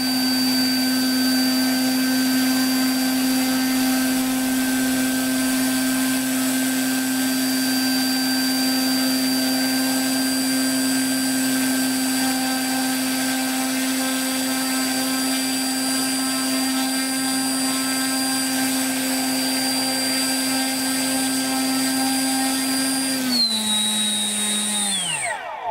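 An electric motor on an RC scale autogyro runs at a steady, loud, high-pitched whine for about twenty seconds, then spins down sharply near the end, with no voices.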